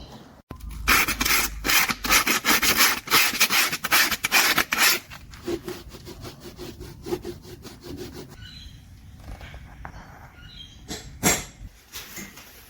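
Rapid, rhythmic abrasive scraping close up as a Toyota Celica RA40 wheel well is sanded, strong and steady at first, then lighter and more intermittent strokes, ending with a sharp knock.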